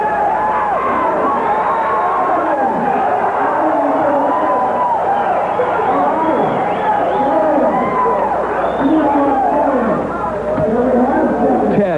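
A large arena crowd at a wrestling match yells and cheers in a steady, dense roar of voices that keeps going without a break.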